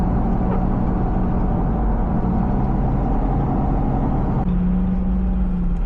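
A car drives along a road on the way to Orange County, its engine and road rumble a steady, loud drone close inside the cabin throughout, with no talking.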